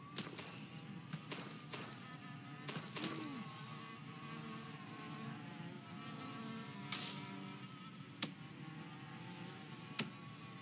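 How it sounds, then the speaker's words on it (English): Bees buzz faintly in the prison-building video game Prison Architect, a thin, steady insect drone running beneath soft clicks and occasional sharp ticks, with no one talking. "Do I hear bees?"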